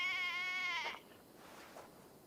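A single sheep bleats in the video game Assassin's Creed Valhalla, a clear, near, wavering cry lasting about a second, followed by quiet ambient background.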